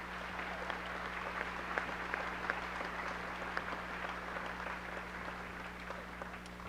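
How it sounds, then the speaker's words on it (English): Audience applauding at a high school commencement ceremony, a steady, fairly faint wash of clapping from a crowd that continues evenly throughout. "let's give them a round of applause for those things"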